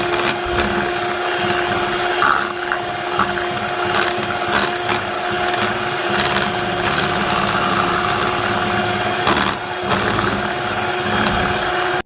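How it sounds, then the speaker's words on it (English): An electric whisk whips a thick shea and mango hair butter, a loud continuous motor whine with a steady pitch, and the beaters rattle and scrape against the bowl throughout. "I'm going to be whisking this up for up to about 10 minutes."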